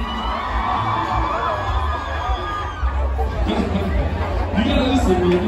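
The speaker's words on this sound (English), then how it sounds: "All my single ladies, let me hear you scream." Loud concert crowd of women at the Sheraton Hotel shrieking, whooping and cheering, a dense roar of many people with high yells breaking through.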